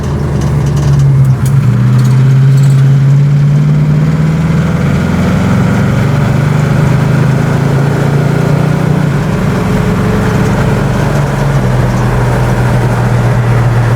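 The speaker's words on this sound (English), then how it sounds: "It's about 60 miles per hour. It runs through the gears good." A 1970 Mercury Cyclone Spoiler cruising at about 60 mph on the road, with a steady, loud low engine drone and road rumble throughout and no talking.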